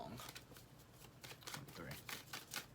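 Tarot cards being shuffled continuously by hand, a close, quiet run of papery flicks and slides with rhythmic bursts.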